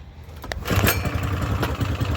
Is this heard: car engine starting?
yes